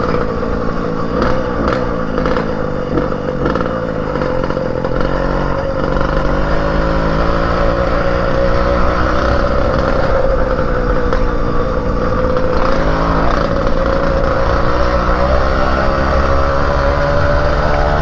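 A motorcycle engine sputters and bogs while being ridden, its note wavering and dipping unevenly over a steady close road roar, with no talk.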